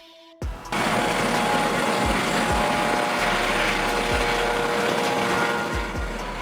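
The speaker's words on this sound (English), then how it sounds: "Police helicopter." A police helicopter's rotor thumps steadily and loudly overhead after a sudden onset, with a constant engine whine, sustained and close with no talking.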